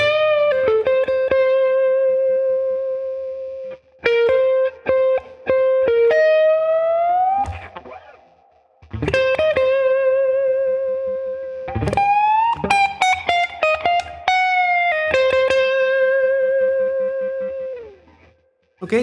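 Electric guitar playing an expressive blues lick with effects, bent and sustained notes ringing loud and close with distortion and reverb, phrases separated by short pauses and no talking.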